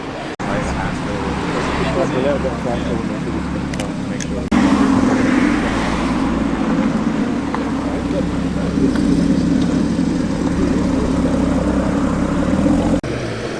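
A Rolls-Royce car at an outdoor Cars and Caffeine meet at Combermere fires up, its engine rising to a loud steady idle that runs on under nearby talk and general crowd noise.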